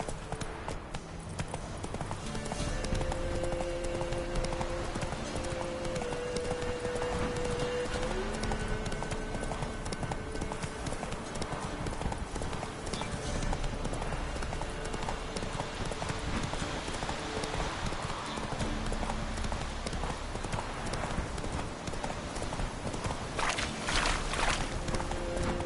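Roach, the horse in The Witcher 3 video game, moving at speed with a steady, rhythmic clip-clop of hooves throughout, set against sustained background music tones.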